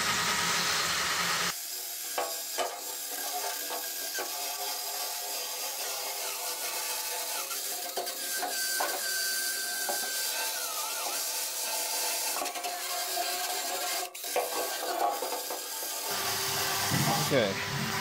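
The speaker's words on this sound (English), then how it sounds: "I'm going to do is sand it down with my bristle sander." A bristle sander grinds across a metal wheelbarrow during a makeover, a steady, loud abrasive whir running nearly the whole time with slight rises and dips, starting and stopping abruptly.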